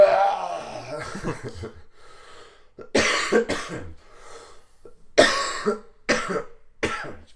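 A voice imitates harsh coughing and throat clearing in several separate bursts, with short pauses between them, loud and close.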